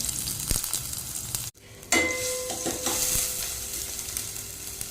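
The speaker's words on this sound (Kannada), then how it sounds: "ಇವಾಗ ನೀರುಳ್ಳಿಯನ್ನು ಫ್ರೈ ಮಾಡ್ತೇನೆ" Chopped onion frying in oil in a cooking pot, a steady loud sizzle close up with intermittent stirring scrapes and a brief drop in the hiss partway through.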